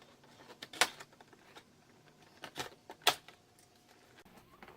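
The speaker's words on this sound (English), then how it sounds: "I just have my scissors here to cut the tape" Scissors snip through packing tape on a Sharpie box, giving a few sharp, close cuts and crinkles separated by quiet pauses.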